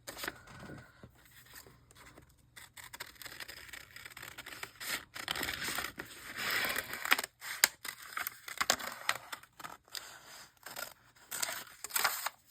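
Scissors cut out paper shapes for an art journal, giving quiet irregular snips and crisp paper rustles, closely heard with brief pauses between cuts.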